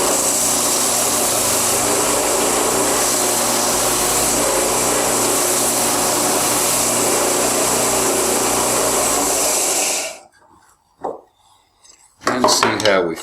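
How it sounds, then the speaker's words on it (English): Loud steady whirring of a power sander on mandolin wood running for about ten seconds, then it stops, followed by a few clunks and a brief burst of noise. "So once again, we'll go back to the sanding."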